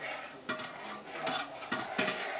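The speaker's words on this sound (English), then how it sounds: "we're just going to mix that all in so the sugar gets all incorporated into that" A spoon stirs a pumpkin spice latte mixture in a pot, giving a few soft scraping and clinking strokes at a steady, unhurried pace, close and fairly quiet.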